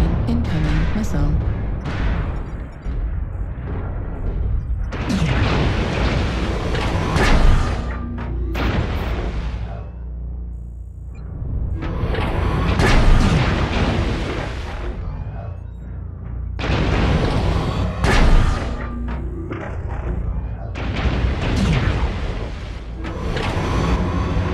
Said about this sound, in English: Incoming missile. Warning, incoming missile.